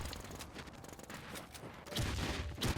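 Rapid bursts of automatic gunfire from a shooting video game, a dense fusillade of overlapping shots that runs throughout and grows louder toward the end.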